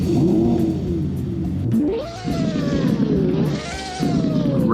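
A car engine in a Roblox driving game cranks and catches, then the engine climbs through two rising revs and falls back, loud and close with no talking.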